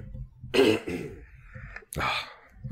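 A person nearby coughs and clears their throat, two rough bursts separated by a short pause, fairly loud and close.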